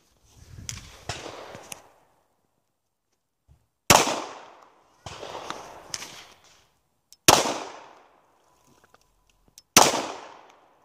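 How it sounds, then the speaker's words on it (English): Four sharp, loud gunshots from a Kimber Custom II 1911 .45 ACP pistol fired left-handed, each with a quick decaying echo, spaced a second or two apart after some earlier rattling at the start. "Shooting left-handed on the Kimber 45."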